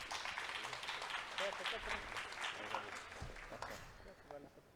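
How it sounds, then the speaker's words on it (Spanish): Audience applause at an international circular economy congress in Peru, a broad wash of clapping filling the room for several seconds, with a voice talking over it. "Un aplauso para ellos, por favor."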